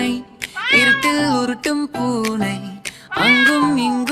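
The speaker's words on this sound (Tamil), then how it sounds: "எங்கள் வீட்டு பூனை இருட்டில் உருட்டும் பூனை" A cartoon cat meows in a Tamil children's song, with about three loud, clear, drawn-out meows in a row, each rising and falling in pitch, separated by short gaps.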